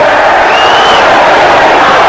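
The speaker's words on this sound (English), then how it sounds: "that action moving this French crowd to song" French crowd at a boxing bout singing in a loud, steady, dense wash of massed voices filling the arena, with no single voice standing out.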